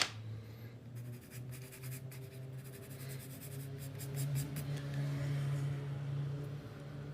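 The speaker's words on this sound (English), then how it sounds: "Sharpen up the pencil." A pencil being sharpened while sketching a detailed mountain scene, a steady gritty scraping that runs alone throughout, close and fairly quiet over a low background hum.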